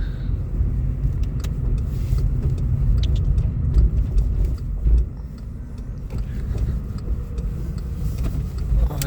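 A car driving along a city road in Dnipro, heard from inside as a steady low rumbling engine and road noise with occasional bumps and knocks, continuous throughout with no talk.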